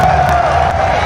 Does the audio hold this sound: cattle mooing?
no